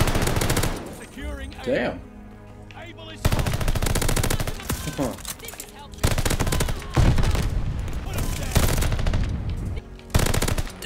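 Rapid automatic fire from the Automaton rifle in Call of Duty: Vanguard, loud sustained bursts with brief gaps, dense gunfire layered with game effects and a short spoken exclamation.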